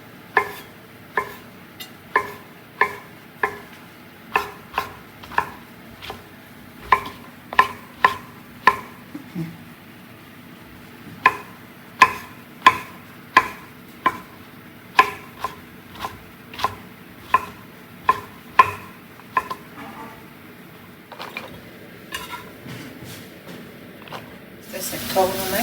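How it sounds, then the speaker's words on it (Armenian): Mushrooms are chopped finely with a knife on a board: steady, evenly spaced crisp knocks that continue at a moderate pace, then quicken into a rapid burst at the end. "սոխին կհաջորդի սունկը, սա ևս կմանրացնենք"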